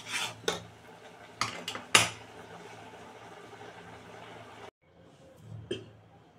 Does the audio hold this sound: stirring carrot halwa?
yes